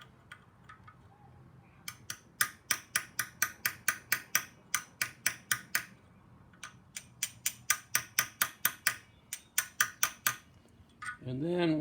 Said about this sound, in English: I like to use a small chisel and get the tab started with a small chisel